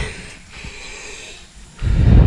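Heavy, labored breathing close to the microphone, a few slow breaths ending in a louder, rough exhale or pant.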